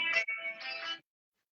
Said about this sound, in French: Ah, la sonnerie ici.